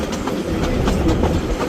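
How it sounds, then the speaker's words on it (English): Kingston Flyer steam locomotive running slowly, its carriages giving a steady rumbling clickety-clack of wheels over rail joints, heard from on board at close range with no voices. "the loco's going slow."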